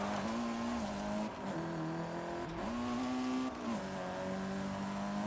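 Sustained high-revving car engine from Forza Horizon 5 during a Cops vs. Racer chase near Mulege, with a steady loud drone and brief dips as the car shifts or brakes, plus faint tire squeal.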